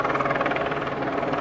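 A helicopter passes overhead with its searchlight on, its rotor chop steady and loud throughout the short stretch, with no voices over it.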